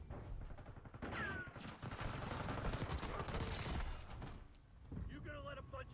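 Rapid bursts of Call of Duty gunfire crackle almost continuously for several seconds, loud and dense, with a brief lull before another volley near the end; a voice talks over the shooting.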